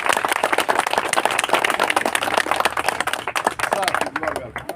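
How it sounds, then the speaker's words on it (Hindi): An audience at an Indian Independence Day celebration in Shopian, Jammu and Kashmir, claps in dense, loud, sustained applause that thins out toward the end. "एक बार जोरदार तालियां हो जाए"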